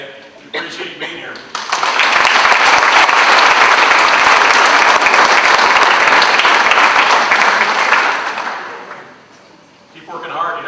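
Sustained audience applause for student athletes at a university M Club induction ceremony, swelling to a loud steady roar of clapping for several seconds before fading, with brief talk at the start and end.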